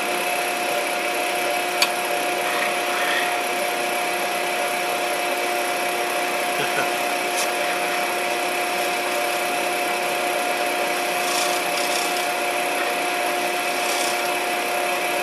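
A wood lathe spins acrylic while a skew chisel cuts it, making a steady, unbroken tonal hum with a faint scraping hiss and an occasional tick, close and constant throughout.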